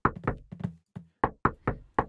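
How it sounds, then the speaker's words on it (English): Knocking in a voice chat app: two quick bursts of sharp knocks, a brief pause, then a steady run of four evenly spaced raps, close and clear against silence. "Stop knocking!"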